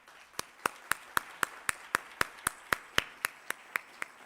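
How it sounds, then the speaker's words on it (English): Slow, evenly spaced claps after a talk at an international brain health meeting, one sharp clap roughly every quarter second, clear and isolated with little crowd noise behind. "It was a big applause for the inspiring talk."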